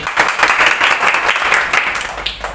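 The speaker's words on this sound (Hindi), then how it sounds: "इनके लिए एक जोरदार ताली से स्वागत करना है।" An audience at an event in India bursts into loud, sustained applause to welcome a guest, many hands clapping together in a dense, steady roar that runs unbroken for a few seconds.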